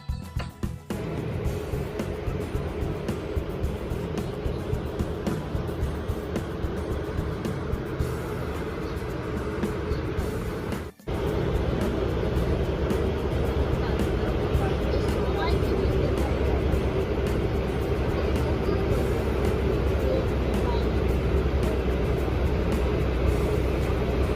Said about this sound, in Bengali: এই তো আমরা বোটে বসে পড়েছি, বোটও ছেড়ে দিয়েছে।